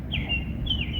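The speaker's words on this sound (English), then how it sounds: "Hear them birds singing?" Two short high chirps from outdoor birds sound over a low background rumble, quick and fairly faint.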